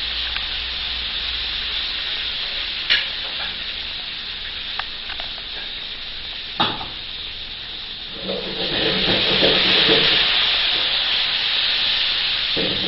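Pickled chilies, Sichuan peppercorn grains and wild mountain chilies stir-fry in hot oil in a wok, with a steady loud sizzle, occasional scraping clinks and a hiss that swells near the end.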